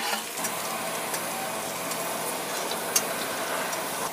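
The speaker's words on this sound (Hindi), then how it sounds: "अब आलू भी डाल दिए हैं, दोनों को साथ में भून रहे हैं अभी" Onion, chili and potato fry in a pan, a steady, even sizzle with faint crackles and one small pop, close and continuous, without talk.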